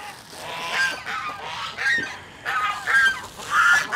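Geese honk repeatedly on a free-range farm alongside ducks and chickens, a cluster of loud, overlapping nasal calls coming in irregular bursts close by.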